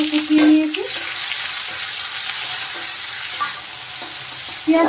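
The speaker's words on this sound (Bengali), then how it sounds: "এখন আমি দিয়ে দিচ্ছি এখানে কুচনো পেঁয়াজ।" Coarsely chopped onions fry in spiced oil for a prawn and banana flower dish, stirred now and then. A loud, continuous sizzle hisses throughout, with a brief clatter of stirring near the start.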